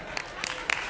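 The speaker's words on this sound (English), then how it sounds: "Can we have a round of applause for the boots" A brief patter of audience clapping at an NFL luncheon, a few sharper claps standing out over a low room murmur; short and moderately loud.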